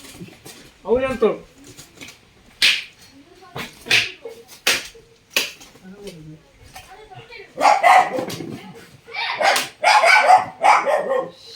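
A dog barks at a daiva tambila seva ritual offering, with scattered short barks mixed into busy crowd talk and some clatter, loudest toward the end.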